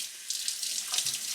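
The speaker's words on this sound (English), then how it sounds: "Turn the water on," Tap water runs steadily into a sink while eggs from backyard chickens are rinsed and cleaned, a close, continuous splashing stream that grows slightly fuller partway through, with no talking.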